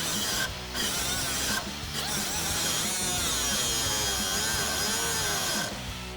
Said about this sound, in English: we're going to go ahead and cut this stud off.